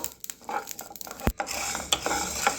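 Black peppercorns dry roasting in a pan for rasam powder, with light rattling and scraping as they are stirred, one sharp knock against the pan, and a low steady hiss underneath.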